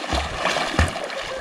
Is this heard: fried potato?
no